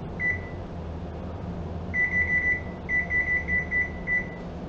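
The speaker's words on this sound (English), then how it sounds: "Let's put a timer here." A kitchen timer beeps in a home kitchen: one short high electronic beep, then, after a pause, two rapid runs of several beeps each, clear and steady over a low background hum.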